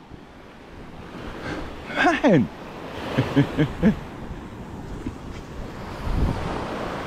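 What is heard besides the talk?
sea waves at Bamboo Beach, Pattaya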